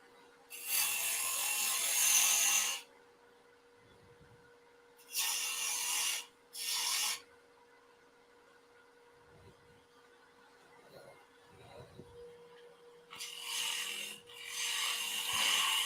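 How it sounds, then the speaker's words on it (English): Woodturning lathe spindle-turning a wooden blank, cutting from large to small diameter while preparing a hollow form. The tool makes intermittent bursts of harsh, rasping cutting noise, separated by quieter gaps where only a faint steady motor hum remains. "This is spindle turning, so turning from large diameter to small diameter makes sense."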